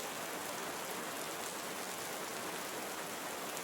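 Dense, uniform rainfall in a Costa Rican tropical rainforest, a loud and steady hiss of drops on foliage that holds unchanged throughout with no voices or other sounds.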